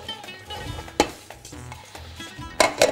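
Butter sizzles as it is spread to grease a pan, a soft frying hiss broken by a couple of sharp clinks and scrapes of a utensil against the metal.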